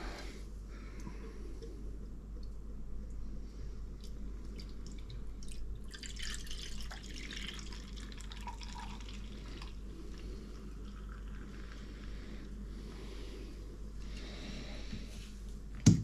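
Stewart Brewing Scottish pilsner, 5% ABV, poured from a bottle into a glass: a steady, quiet liquid trickle and fizz running throughout over a low hum, with a faint clink at the very end.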